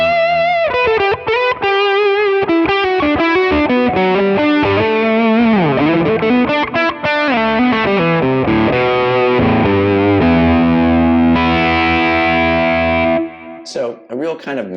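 Overdriven electric guitar lead tone through an ODR1 overdrive, Archer Icon capture and compressor, a full, mellow singing solo line with bends, vibrato and long sustained notes, loud and close, trailing off at the end.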